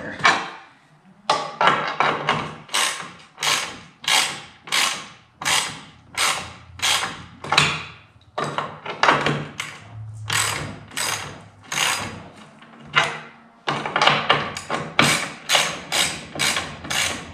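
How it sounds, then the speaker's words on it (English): A socket ratchet works rusty bolts loose on a snowmobile, giving bursts of rapid, loud ratcheting clicks stroke after stroke, with brief pauses between rounds and no talking. "now switch the socket back over and just break the bolts loose. Because they are rusting on there."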